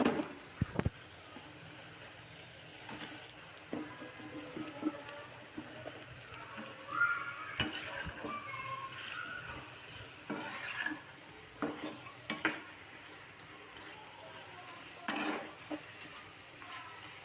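Fish added to hot oil with tomato and green chili masala, a faint steady sizzle with occasional stirring scrapes and pan clinks, quiet and unhurried, no talking.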